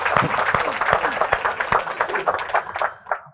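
Audience applause at a comedy show, a burst of clapping with voices talking over it, tapering off toward the end.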